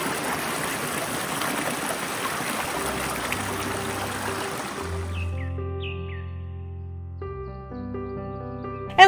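The Agna mountain stream and its tributaries flow through woods near Montale with a steady broadband rush. The rush lasts about five seconds, then fades out as soft melodic music takes over.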